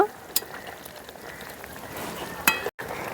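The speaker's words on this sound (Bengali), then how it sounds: "ভাজা মাছগুলো দেওয়ার পরে একটু সময় নিয়ে আবারও ঝোলটাকে ভালো করে ফুটিয়ে নেব।" Fish curry broth with fried puti fish, small red potatoes and eggplant bubbles in a pot, giving a steady hissing simmer with a couple of sharp clinks and a momentary dropout.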